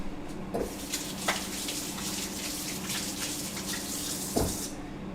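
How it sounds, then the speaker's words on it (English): A tap runs steadily into a sink during handwashing, a continuous close rushing stream with a few brief clinks before it shuts off near the end. "I have to wash my hands."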